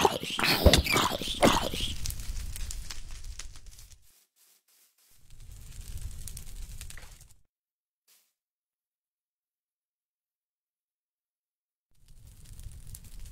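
Dogs in a video game make sounds in a loud burst over the first four seconds. Two quieter patches follow, separated by silence.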